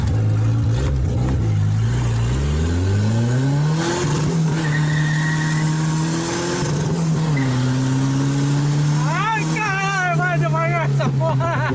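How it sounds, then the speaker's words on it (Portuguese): A Voyage turbo 2.0 car launches from a standstill, its engine revving and climbing through several rising pitch sweeps, with tires squealing near the end; people talk over it inside the car. "Quer dar mais uma largadinha aqui com dentro do carro?"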